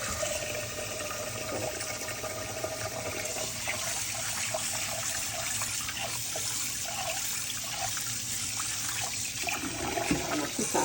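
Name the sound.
washing rice in water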